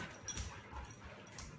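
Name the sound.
dog whimpering and yipping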